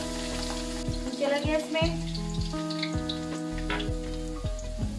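Garlic and white cumin sizzle in hot oil while cooking a dhaba-style mixed vegetable dish, a steady crackling fry with brief stirring, and someone talks over it.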